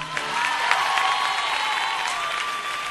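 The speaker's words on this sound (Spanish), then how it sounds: "me gustaría darles yo a ellos un aplauso enorme" An audience applauds at a concert: dense, steady clapping from a large crowd with some cheering, fairly even in level throughout, with no talk over it.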